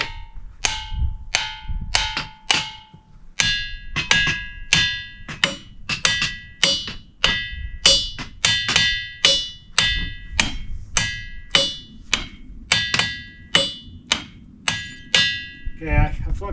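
A hammer strikes the ringing rocks of Montana again and again, each sharp hit followed by a bright bell-like metallic tone that decays quickly, in an irregular rhythm of about two dozen blows, with no talk.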